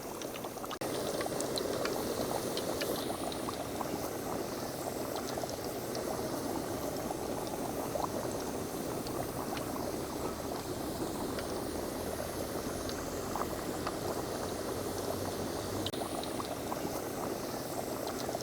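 Chicken vada fries in hot oil at a tea-shop style stove, a steady close bubbling sizzle that runs unbroken throughout.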